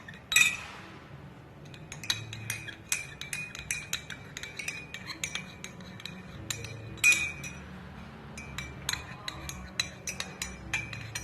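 A spoon clinks repeatedly against the inside of a glass while stirring a hot drink, bright rapid taps in irregular bursts over a quiet background.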